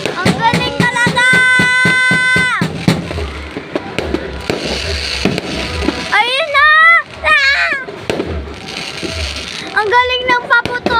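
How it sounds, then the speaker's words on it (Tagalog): Fireworks crackle and pop, with loud bursts alongside excited voices and shouts from people nearby. "Ang galing ng paputok!"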